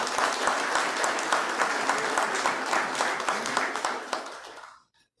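Dense applause from a crowd at a city council ceremony where honorary citizenship titles are presented, steady and full for about five seconds before cutting off abruptly.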